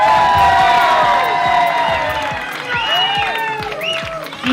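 A stage hypnosis show audience cheers and applauds loudly and steadily, with whoops and shouts rising over dense clapping throughout.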